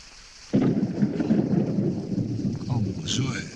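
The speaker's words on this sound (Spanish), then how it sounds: "¿Cómo llueve? Espectacular." A thunderstorm in Argentina: a sudden loud crack of thunder rolls on over heavy steady rain, close and powerful, with a brief voice near the end.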